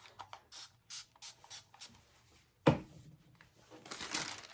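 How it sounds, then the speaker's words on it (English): A spray bottle spritzes paint with a sharp burst of mist, preceded by soft rubbing and crinkling handling sounds and followed by a softer hiss, close up and without talk. "So I'm just going to spritz my paint."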